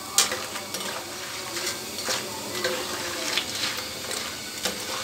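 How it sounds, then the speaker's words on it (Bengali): Potato chips coated in cornflour frying in hot oil: a continuous close bubbling sizzle with small irregular crackles and occasional utensil clicks, at moderate level with no talking. "এইভাবে আমি সবগুলো চিপস ভেজে নেব"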